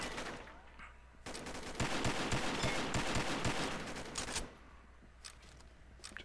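Rapid gunfire from an M107 .50 cal rifle in a video game, with a dense run of loud shots and blasts filling the middle seconds before dropping to quieter game ambience.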